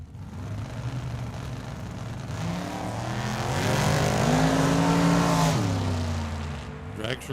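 A dragster at Tucson Dragway, its engine roaring loudly and building in pitch and volume to a peak before easing off, with a crowd-like wash and a voice faintly under it.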